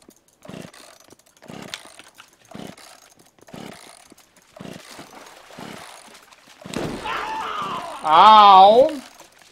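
Repeated short revving bursts of a chainsaw in the video game The Culling, a steady series of chops building to a louder sustained roar near the end, with a shouting voice over the final part.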